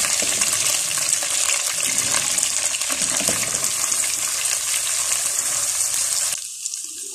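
Whole garam masala frying in melted butter, a loud, dense sizzle held close and steady before it suddenly drops away near the end.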